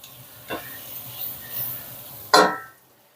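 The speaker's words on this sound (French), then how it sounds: "Et on gratte bien pour soulever les sucs." Red wine vinegar hits a hot pan for a Flemish carbonade, and a spoon scrapes up the browned bits in two short bursts of sizzle and scraping, the second louder and fading out.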